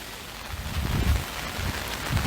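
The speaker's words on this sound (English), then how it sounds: "it's not any distortion in the sound, it's just the rain on the Skywater force field" Steady rain patters on an overhead canopy at a beach bay near Holetown and Sandy Lane, a dense continuous hiss with low soft drumming and no talking.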